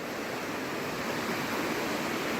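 Small monsoon waterfalls near Vadodara pour in a dense, unbroken rushing roar at close range, steady and fairly loud for the whole stretch, with no voices.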